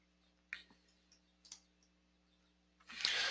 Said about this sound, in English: hover over A, and click on the A